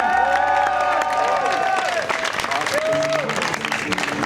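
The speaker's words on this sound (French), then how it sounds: "allez un tonnerre d'applaudissements." Loud audience applause and cheering at the Quercy Contest 2025 medieval-themed event, a crowd clapping and whooping continuously, with a sustained tonal sound and a brief voice rising above the crowd noise.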